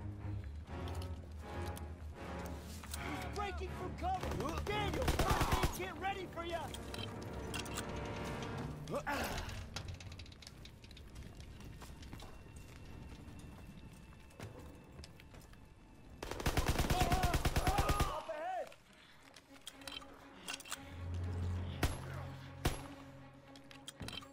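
Submachine gun fire in Call of Duty WW2, heard as two loud sustained bursts amid a busy battlefield mix, with other game noise in between and voices talking at times.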